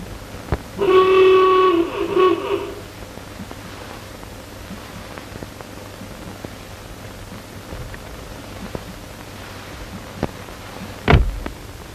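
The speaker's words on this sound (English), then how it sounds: "Sound your horn, Morton." A single loud car horn blast in a 1929 movie scene sounds near the start, lasting under two seconds, followed by quiet background hum and a sharp thump near the end.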